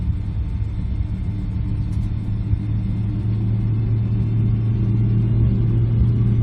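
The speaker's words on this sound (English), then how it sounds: "Let me just adjust the throttle a little bit so you can hear those beautiful engines." Simulated Boeing 777 jet engines in X-Plane 11 rumble steadily and loudly as the throttle is advanced, a dense low roar that slowly builds with no talking.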